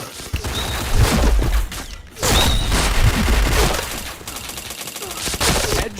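Rapid gunfire from a shooter video game, dense bursts of automatic shots with booms, loud and continuous with a short gap near the middle, over a faint background voice.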